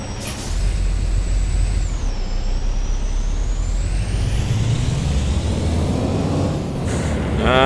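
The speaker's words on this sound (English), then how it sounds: "Here we are grinding gears again." A truck pulls away from a stop with its engine droning loudly and steadily, a whining gear tone shifting in pitch and an air hiss near the end.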